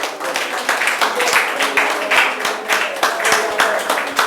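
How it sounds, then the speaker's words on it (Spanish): Church congregation applauding a pastor's call, loud rhythmic clapping with distinct close claps repeating steadily throughout, no voices over it. "Dese un aplauso a usted."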